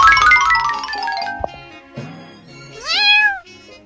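A kitten meows loudly and close, with bright tonal calls at first and then one drawn-out rising and falling meow, heard alone without talking.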